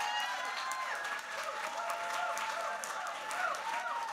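Audience clapping at a Midwest awards event, steady and moderately loud, with cheers, whoops and crowd voices mixed in throughout.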